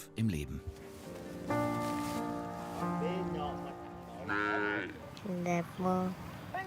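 A newly bought cow moos several times, with long drawn-out lowing calls at close range, separated by short pauses, and quieter ambient rustle between them.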